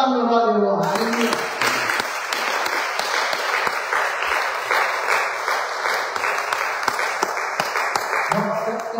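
Church congregation applauding in a steady, dense clatter of many hands, close and loud, with singing voices heard briefly at the start and end.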